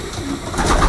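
Pigeons coo softly inside a breeding loft, a low murmuring of several birds that swells slightly toward the end.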